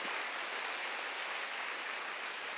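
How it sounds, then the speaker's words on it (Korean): A church congregation applauds during a Sunday worship service, a steady, dense wash of clapping from many hands, continuous and fairly distant, with a brief louder burst at the very end. "박수 하세요."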